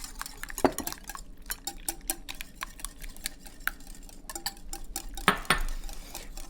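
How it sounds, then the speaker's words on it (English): A utensil beats zucchini frittata batter with flour in a bowl, a quick run of scraping, clicking strokes against the sides, with a louder knock near the start and another near the end. "I'm gonna add the flour to this and beat it a little bit more"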